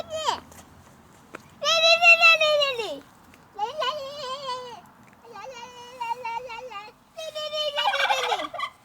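A turkey in a park gobbles in several loud, warbling bursts with short pauses between them, close by, with faint voices in the background.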